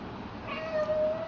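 A house cat gives a single drawn-out meow, close and fairly clear against quiet room noise.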